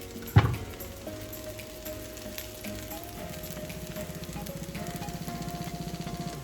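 Browned rice frying in a pan as an egg mix goes in, opening with a sharp clank and then a steady, building sizzle with a faint tone humming underneath.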